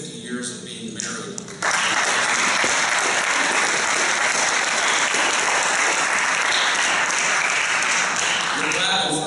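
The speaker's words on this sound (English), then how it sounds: "We're clapping for her because why she stayed with me all that time, no one knows." At a hall of honor ceremony an audience breaks into loud sustained clapping after a man's speech, the applause bursting in abruptly and continuing steadily, dense and close, with a voice heard before it starts.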